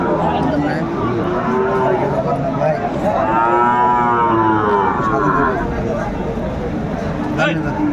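Sahiwal bulls at a livestock market in Jashore low and moo loudly and close, several long drawn-out calls overlapping amid a background of crowd chatter.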